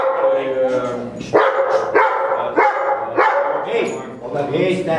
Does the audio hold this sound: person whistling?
no